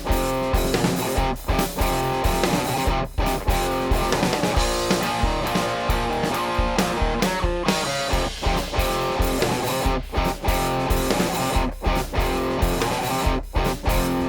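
Distorted electric guitar through an Orange Rockerverb amp on its dirty channel, gain and tone around noon and volume at 4, playing a loud, dense riff against a full song backing without pause.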